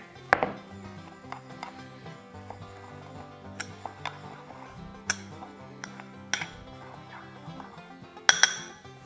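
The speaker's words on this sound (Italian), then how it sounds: "vado a mescolare il pepe con il sale" Ground pepper being mixed with salt in a bowl for curing lonzino, a cured pork loin, gives scattered light clinks and taps that rise above soft background music, with a sharper cluster of clinks near the end.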